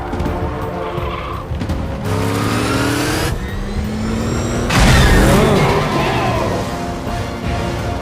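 A muscle car's engine revs hard in a chase scene from The Batman film, rising and falling in loud surges with tire squeals and skidding, layered over a dense cinematic soundtrack.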